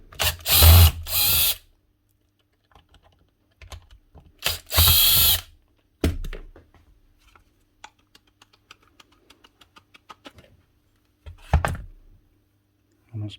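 A cordless driver backing screws out of the head of an old Bosch 1130 EVS rotary hammer in two loud whirring bursts, followed by small ticks and clicks of screws and parts, with someone talking between them.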